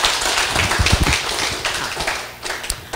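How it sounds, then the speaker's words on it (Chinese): An audience attending a class gives a brief round of clapping, a dense burst of close, sharp hand claps that swells and then thins out toward the end. "掌声鼓励一下吧"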